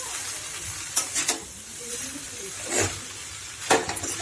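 A spatula scrapes and stirs boiled noodles and chicken chowmein in a frying pan, giving a few short, close scraping strokes over a faint sizzle, with no voices.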